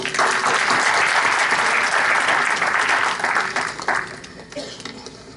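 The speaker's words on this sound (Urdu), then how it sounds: "اس کے لیے ایک دفعہ تالیاں" An audience applauds a recitation of Allama Iqbal's poetry at an Urdu Academy tribute, with loud dense clapping that holds for about four seconds and then thins and fades, a voice briefly audible near the end.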